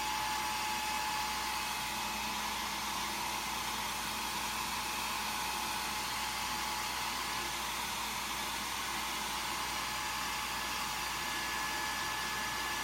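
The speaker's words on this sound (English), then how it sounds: "So I have my blow dryer here. So I'm going to just add some heat to it." A blow dryer heats a jewelry resin mold at close range, a continuous loud whooshing hum with no breaks.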